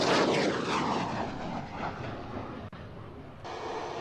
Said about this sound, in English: There you can see Patrulla Águila 7 aircraft taking off right now.